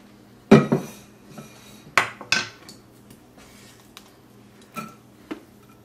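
Food for Passover charoset, chopped apples among it, drops into a bowl with a few sharp clinks and clatters of utensil against dish, loudest at the start and then sparse, light taps.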